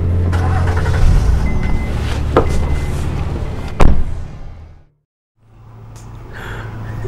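A car engine runs and the vehicle moves close by, with a couple of sharp knocks or thuds. The engine fades to near silence before a low rumble builds again toward the end.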